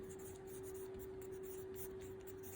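Pen or pencil scratches steadily across paper, close and fairly soft, as a math solution is written out, with a constant electrical hum running underneath.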